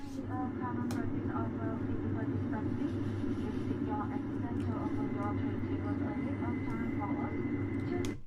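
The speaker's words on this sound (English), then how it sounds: "That plane sounded like it was moving too" Steady low drone of an airplane cabin in motion runs throughout, a constant engine rumble with a voice talking over it.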